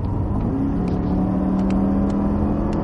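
A Cadillac CTS-V accelerates hard at full power on a track, a loud, steady engine roar rising slightly in pitch, heard from inside the car.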